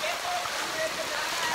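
Steady rain falls outdoors in a continuous, even hiss of drops on surfaces, close and unbroken throughout.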